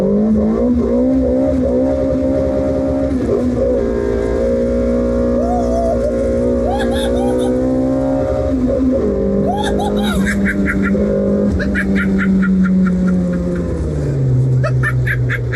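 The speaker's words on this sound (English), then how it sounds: "We're gonna do the launch now with a 2-liter VVL." A Nissan Sentra with a 2-liter SR20VE VVL engine launches, its revs climbing in rising harmonic sweeps then dropping and building again, loud and close, with people talking over it.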